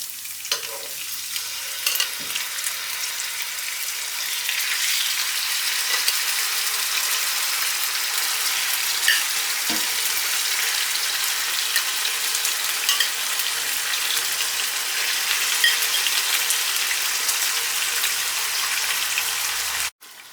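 Chicken for chicken korma sizzles in a hot pan with a dense, even, rain-like crackle that holds steady for about twenty seconds before cutting off abruptly.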